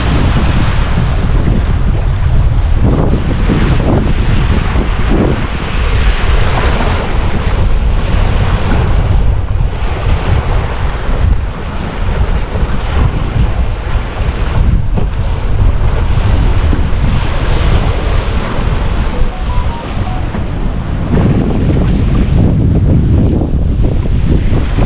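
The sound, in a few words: waves breaking and wind while sailing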